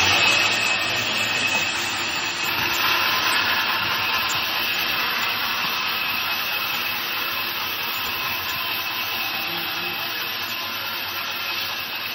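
A woodworking machine cutting timber in a furniture workshop, a steady loud broadband whirring hiss that runs unbroken throughout with no talk.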